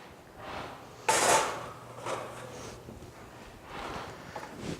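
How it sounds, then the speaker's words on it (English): A pan going into an oven in a home kitchen, a sharp metallic clank of the pan on the rack followed by lighter scraping and knocks, then a softer bump as the door closes, no voices. "I'm gonna go ahead and pop this right in the same oven"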